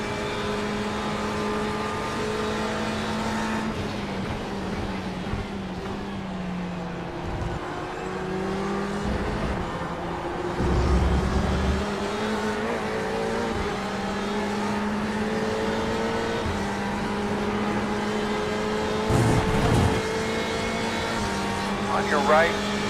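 Porsche Cup race cars at Oulton Park in iRacing drone steadily with a continuous engine whine. Pitch shifts rise and fall through gear changes, with brief louder swells as cars pass, under a voice talking.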